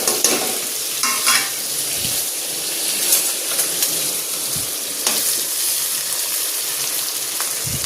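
Tomato and chili sizzle loudly in a hot pan on low heat while an aloo paratha filling is made, with a steady frying hiss broken by several stirring scrapes and clinks.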